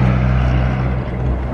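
A vintage Thames lorry drives past at a classic vehicle run, heard as a loud, steady low engine rumble and road roar that stays close and even throughout without a clear rise or fade.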